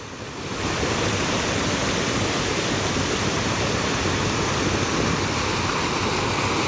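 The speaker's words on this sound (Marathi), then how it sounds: "इथं प्रेशर बघा कसलं आहे पाण्याचं" Floodwater rushes over a submerged dam after torrential monsoon rain in Maharashtra, a loud, steady, unbroken roar of pouring water that swells in within the first second and holds constant.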